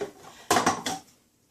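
A lid goes onto a jar of homemade pesto made with olive oil and garlic, giving a few quick, close clinks and scrapes of glass and metal in a short cluster, then quiet.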